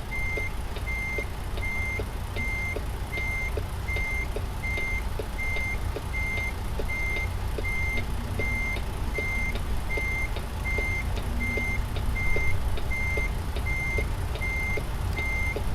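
Truck reversing alarm in a driving video game, steady evenly spaced beeps repeating throughout while a trailer is backed in, over a constant low engine rumble.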